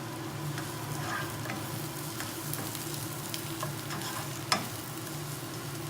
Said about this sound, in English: Gonna cook the mushrooms. So I'm gonna put this to medium high.